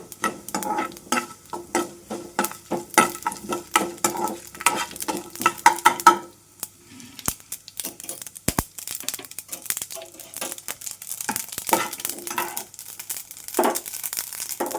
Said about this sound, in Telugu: ఆయిల్ హీట్ అయిపోయింది ఇప్పుడు పోపు గింజలు వేస్తున్నాను అలాగే ఎండుమిరపకాయలు కూడా కట్ చేసి వేసాను